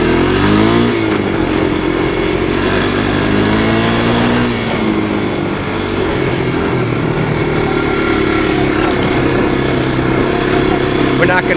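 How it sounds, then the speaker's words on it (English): The small engine of a 1985 Honda ATC 250SX three-wheeler revs up and holds a high, droning pitch, loud and close, with a voice speaking over it. "you hear the way that engine sounds when she winds up?"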